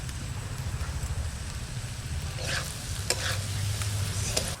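Soaked, drained rice goes into a hot pot with cashews and raisins for prawn polao and is stirred as it sizzles. The frying hiss is steady and close, with stirring scrapes and a few sharper clinks, and nobody speaks.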